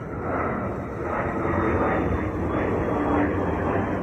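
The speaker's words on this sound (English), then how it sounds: "That sounds like a plane." A loud, steady airplane roar passes overhead, broad and rumbling, filling the whole moment without a break.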